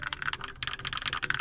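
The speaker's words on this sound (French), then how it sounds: "Mais waouh, le clavier sonne bien." Rapid typing on a Keychron K2 mechanical keyboard with an aluminium frame: quick, close, bright key clacks in a steady burst, with no talk.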